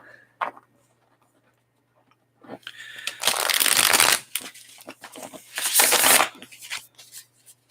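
Tarot cards are shuffled up close in two long, rustling bursts, separated by small scattered handling noises and quiet gaps, with no talking.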